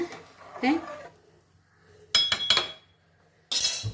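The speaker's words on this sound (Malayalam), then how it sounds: "അരി ഒന്ന് പതുക്കെ ഇളക്കി കൊടുത്ത്" A spoon scrapes and knocks against a pot in short bursts of gently stirring rice for ghee rice, after a brief stretch of a voice speaking.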